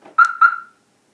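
A 2018 Honda CR-V fitted with a Viper remote start alarm gives two short, loud electronic chirps in quick succession when unlocked with the factory key fob, then falls silent.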